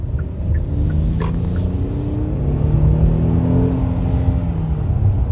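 A 2020 Hyundai Palisade seven-passenger SUV with automatic transmission pulling away from a stoplight in sport mode, engine droning as its revs climb and steady through shifts, heard from inside the cabin as a continuous rising hum.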